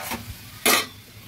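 A spoon stirs a mustard-cashew pabda fish curry in a pan, giving two short scraping strokes, the second louder, over a faint simmer.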